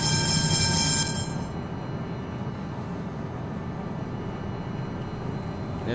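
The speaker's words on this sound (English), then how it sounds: "It's a tram." A tram in the OMSI 2 simulator rolls along with a steady low rumble and rail noise, a high whine fading out in the first second, and no voices.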